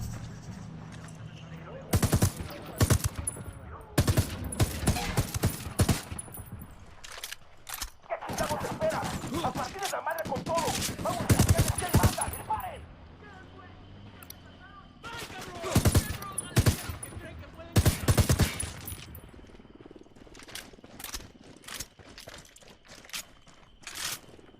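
Tactical shooter gunfire from Ghost Recon Wildlands, with irregular bursts of rifle and automatic shots, some close and sharp and others softer, scattered across a long stretch with quieter gaps and a voice talking between them.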